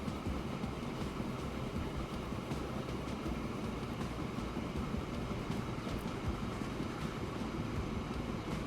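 A locomotive accelerating along a track in the video game Transport Fever 2, giving a steady, moderately quiet rolling rumble with faint rail clatter that continues without a break.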